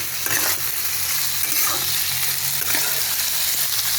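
Kohlrabi and prawns sizzle steadily in hot oil while being stirred in a pan, with scraping strokes from the stirring recurring over continuous close frying noise.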